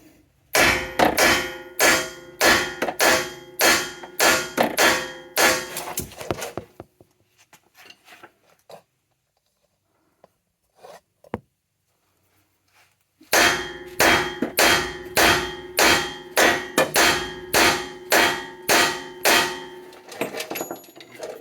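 Hammer blows ring against the inner steering knuckle of a Ford F350 Super Duty Powerstroke, a steady run of about a dozen sharp metallic clangs, then a quiet pause with small clinks, then another rapid series of loud strikes.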